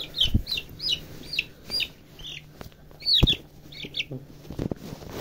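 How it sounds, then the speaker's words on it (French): A rooster gives a series of short, throaty clucks at uneven intervals, close by, with a few soft thumps and wing rustles mixed in. "Ça c'est un coq."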